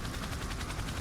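Roblox video game helicopter with dense, steady rotor and engine roar, loud and continuous across the whole second, a faint rhythmic chop pulsing through it and no voices.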